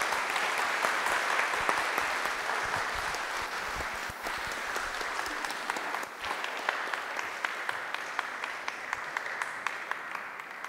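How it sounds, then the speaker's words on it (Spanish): Audience applause marking the 15th anniversary of the Museo Textil de Oaxaca: a long, dense wash of clapping from a gathered crowd, steady and full, slowly thinning toward the end. "un gran aplauso a estos 15 años del Museo Textil"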